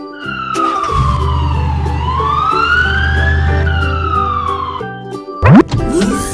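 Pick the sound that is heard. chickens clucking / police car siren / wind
police car siren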